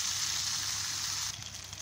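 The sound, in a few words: fish sizzling as it fries in a pan on medium flame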